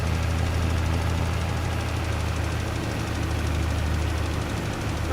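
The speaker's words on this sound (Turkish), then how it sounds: "traktör iyi çekiyor arkadaşlar şu an" Tractor engine in Farming Simulator 22 working a cotton field, a dense low rumble with knocking pulses that stays steady and loud throughout, with no voices.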